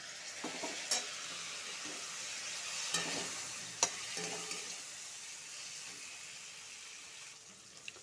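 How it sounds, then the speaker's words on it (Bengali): Taro, potato and sliced tomato fry in a pan for a thin sea-fish curry, giving a steady soft sizzle with a few sharp clinks and scrapes of stirring, close by and without talk. "কচু আলুটা টমেটোর সাথে ভালো করে ভাজা হয়ে গেছে।"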